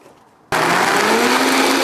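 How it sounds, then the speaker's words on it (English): A blender switches on abruptly and roars loudly and steadily, purée-ing soft steamed chili ingredients with beef stock, its motor pitch rising slightly as it runs. "into the blender we go"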